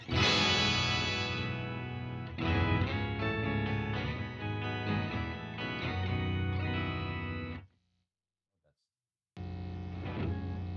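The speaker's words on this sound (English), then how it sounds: "Or add the nice low pass filter." An electric guitar plays through an Electro-Harmonix POG2 octave pedal with its low pass filter engaged, giving loud, thick, sustained octave-doubled chords that ring for several seconds, stop in a brief silence, then resume.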